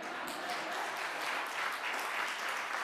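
An audience applauds at a speaking event, a steady dense patter of many hands clapping at moderate distance throughout.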